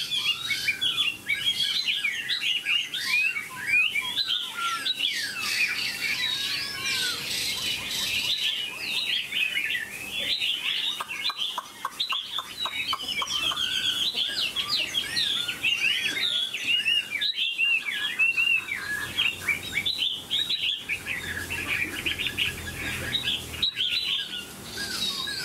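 A Chinese hwamei songbird, a three-yellow Vietnamese hwamei, sings a continuous, rich and varied song of rapid whistles, trills and chirps, close and clear throughout with no talking.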